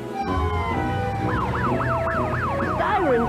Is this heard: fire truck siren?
yes